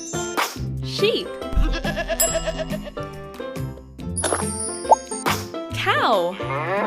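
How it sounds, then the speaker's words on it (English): Sheep bleating on a farm, several wavering bleats scattered through the clip among other clanging farm and animal sounds, fairly loud and close. "Sheep."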